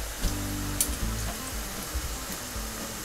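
Egg fingers fry in hot oil, giving a steady, close sizzling hiss with a low bubbling rumble and occasional small pops throughout.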